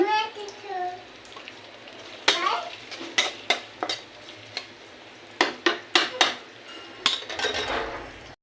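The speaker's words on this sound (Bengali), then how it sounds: "এটা ভালো করে ভেজে নিচ্ছি।" Banana flower with green chilies frying in a pan: a low sizzle broken by a series of sharp spatula knocks and clinks against the metal, with a voice speaking briefly at the start.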